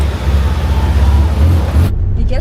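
A heavy Ferrari sports car's engine rumbles loud and close with a deep, steady growl for about two seconds, then drops away abruptly into near quiet.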